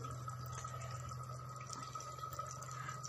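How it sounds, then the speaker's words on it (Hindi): A glass of water is poured into a pot of cooked chicken and pumpkin curry, running steadily with a low, continuous gurgle and splash, with no talking. "अब इसमें हम शामिल करने लगी हूँ 1 गिलास पानी"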